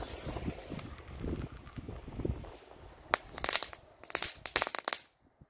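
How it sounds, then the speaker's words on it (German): A crackling ball firework from a pyro advent calendar goes off outdoors: scattered soft rustling first, then a burst of sharp, loud crackles and pops clustered over a couple of seconds before cutting off. "Wir fangen an mit dem Knatterball."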